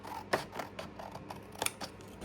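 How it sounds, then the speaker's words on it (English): Scissors snipping through paper while making Christmas tags, a quick run of crisp, close cuts with short irregular gaps, sharp and unaccompanied by speech. "And then let's cut that across there."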